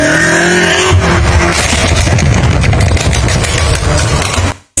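A BMW M5 F90 saloon with a 4.4-litre twin-turbo V8 revs hard and loud, a sustained close roar with rising engine pitch that drops away abruptly at the end.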